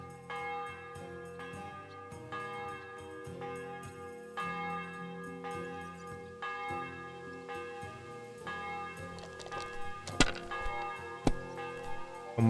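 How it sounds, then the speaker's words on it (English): Church-style bell tolling in the medieval game Kingdom Come: Deliverance 2, ringing in repeated strokes over a steady bed of game music, with louder strikes near the end. "The bell's ringing for hands the 5th time."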